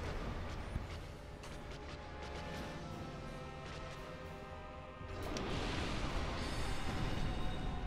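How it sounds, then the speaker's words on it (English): A loud, dense rumbling explosion in the video game Dark Souls, sustained and broadband, swelling louder partway through with a bright crackling roar that carries on to the end. "That's an explosion."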